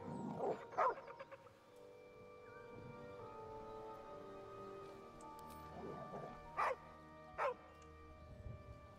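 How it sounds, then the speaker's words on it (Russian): A dog in the video game Baldur's Gate 3 barks a few sharp times, in scattered bursts over a soft sustained musical score, with quiet whimpering between barks. "Давайте собаку приманим к себе."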